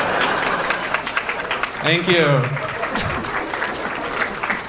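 A comedy show audience breaks into sustained applause, a dense wash of clapping that carries on throughout. A performer briefly speaks over it partway through.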